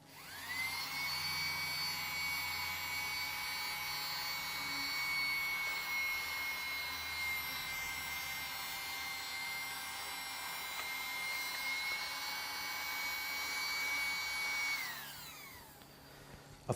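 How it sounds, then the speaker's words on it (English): A vacuum cleaner sucks dust from between computer keyboard keys, a steady high-pitched whine that starts abruptly, holds evenly for about fifteen seconds, then winds down. "Keep your keyboard dusted using your vacuum cleaner and vacuum up any dust between the keys."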